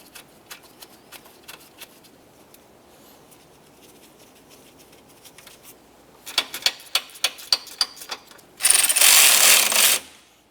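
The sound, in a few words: ratchet tightening 10mm compressor mounting bolts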